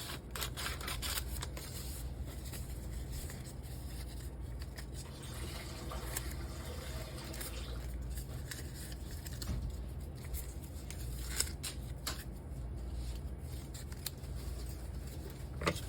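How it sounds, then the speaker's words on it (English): Scissors snip through strips of paper for fortunes to go inside giant chocolate fortune cookies, a series of quiet, irregular cuts and rustles spread across a faint background with no speech. "I'm gonna cut some more strips because these are gonna be our fortunes"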